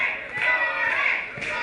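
A wrestling crowd at a live event in Ybor roars and chants, urging on a wrestler in a loud, sustained surge that swells and dips.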